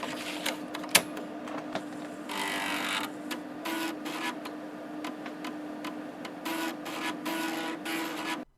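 A floppy disk drive runs with rapid mechanical ticking and clicking over a steady motor hum, with bursts of grinding head-seek noise and a sharp click near the start, close and moderately loud.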